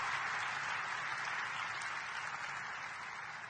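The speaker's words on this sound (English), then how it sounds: "Will you please stand and let us applaud you?" Commencement audience applauding a graduate in a large hall, a continuous wash of distant clapping that stays even and then begins to thin slightly toward the end.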